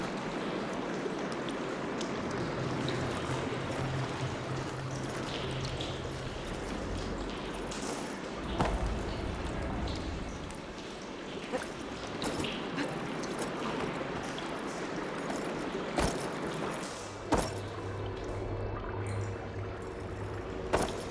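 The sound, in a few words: water flowing through pipes in Horizon Forbidden West video game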